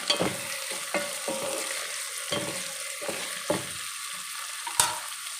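Food frying in a pan, a continuous soft sizzle broken by regular scraping stirs and occasional louder clinks of a spoon against the pan, heard close up and alone.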